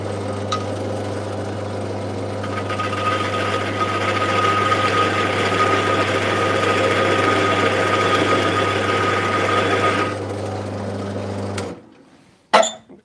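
A wood lathe spins a handplane knob blank with a steady hum, and a small parting chisel cuts the wood for about ten seconds before the motor winds down, followed by a sharp knock.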